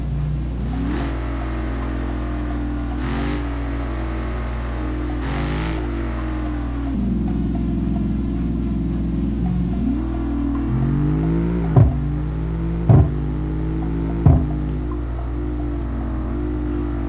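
Rebuilt Mustang GT engine in the BeamNG driving game, loud and steady with a low rumbling drone, rising and falling through several revs before three short sharp throttle blips near the end.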